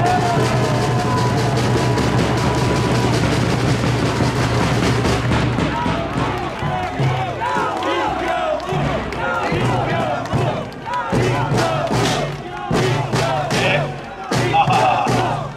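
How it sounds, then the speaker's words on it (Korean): A large crowd at an outdoor political rally claps and cheers loudly, with sharp bursts of applause and shouting that build over a voice speaking through a loudspeaker. "뜨거운 뜨거운 박수 부탁드리겠습니다"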